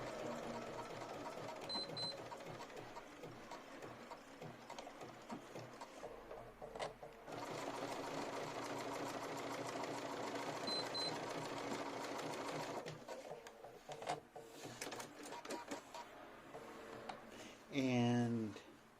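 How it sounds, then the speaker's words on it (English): Sewing machine joining lace motif petals, a fast close rattling run in extended stretches broken by short stops, clicks and fabric handling, ending with a brief squeaky rising whir. "what we're going to do now is sew these petals together"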